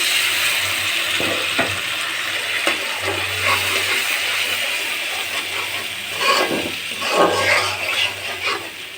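Onions frying in a pan with cumin paste, garlic and green chilli spices added, giving a steady sizzling hiss with occasional stirring scrapes and a low hum underneath.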